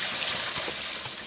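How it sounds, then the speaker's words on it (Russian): Water poured over rinsed rice in a pot for plov, a short steady gushing splash, close and alone. "Сейчас его хочу залить водой, чтобы он у меня настаивался."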